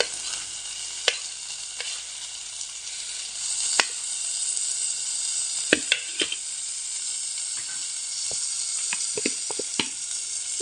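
Chopped tomato frying in hot oil in a pan while a fish head dal is made, a loud continuous hiss and sizzle with scattered crackles and spoon clicks throughout.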